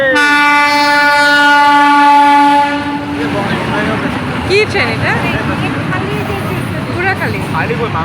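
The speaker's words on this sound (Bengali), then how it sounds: "এই যে ট্রেন এই দেখো ট্রেন" A train rumbles past close by with a long steady horn blast at first, then clattering wheels and rattling cars, with people talking over it.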